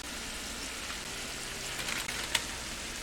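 Garlic sautéing in a beef stew pot, a soft steady sizzle crackling throughout, with a few sharper pops and a brief utensil clink near the end, fairly quiet and without voices.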